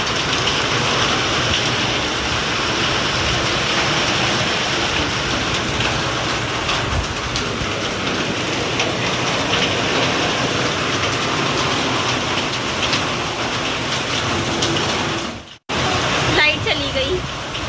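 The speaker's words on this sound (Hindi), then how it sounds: "तूफान आ गया है बेटा, बारिश आ रही है वो भी बहुत तेज।" Heavy rain pours steadily during a strong storm, a dense continuous wash of drops on surfaces that stays loud throughout, with a brief sharp drop-out near the end.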